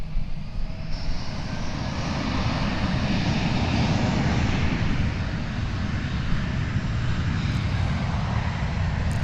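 An American Airlines Airbus A321 takes off from DFW Airport, its jet engines producing a loud, sustained roar that holds steady throughout with no talk over it.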